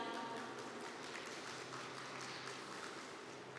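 Faint, steady audience applause welcoming a speaker at the NFT BUSAN 2021 conference, a soft continuous patter of clapping with no voices.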